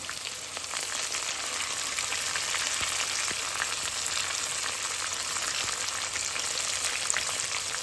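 Dried red chillies for tempering crackle and sizzle in hot oil, a dense continuous fry with faint pops, steady and close for several seconds with no voices.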